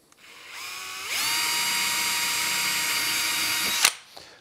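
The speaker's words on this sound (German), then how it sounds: "dann kann ich ja jetzt wieder bohren" A power drill spins up and bores a small hole in the rear body of a Dacia Duster II, a close, steady high-pitched whine lasting about three seconds before stopping abruptly with a clunk.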